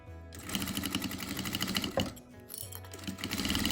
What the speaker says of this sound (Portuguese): Seguindo com o pezinho do zíper, andando bem aqui do lado de onde tá o zíper.